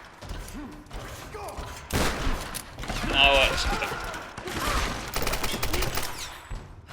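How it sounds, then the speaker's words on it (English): Enemy gunfire in the Tomb Raider video game crackles in bursts and volleys over several seconds, mixed with thumps and mechanical clatter, while a player talks over the action. "Where am I being shot from?"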